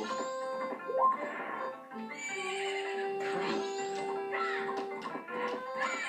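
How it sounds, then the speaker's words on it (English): Horse neighing and whinnying in The Legend of Zelda: Majora's Mask, with a couple of loud whinnies and light hoof clip-clops over game music. "I don't even know why I'm riding the horse."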